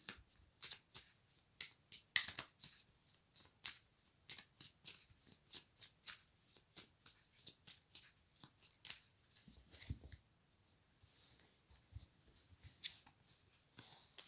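Tarot cards being shuffled by hand, a long run of quick papery riffles and flicks in close, steady bursts, with a brief pause near the end before a few more shuffles.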